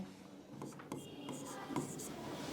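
A pen scratches across paper while a maths problem is worked out, short quick strokes close by, under soft talking.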